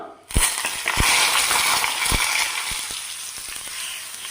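A hot tempering of mustard seeds, chilli and curry leaves is poured into salted-mango pachadi, setting off a sudden loud sizzle that fades into a softer crackle with a few sharp pops.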